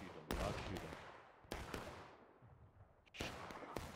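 Musket volleys in the War of Rights multiplayer game: several sharp, loud reports ring out at irregular intervals, some with a long decaying echo, against a steady background of distant battlefield noise.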